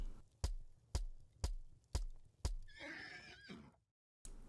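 A light horse in the medieval combat game Mordhau: five sharp, evenly spaced hoof thuds, then a loud, close whinny, a brief silence, and one more thud.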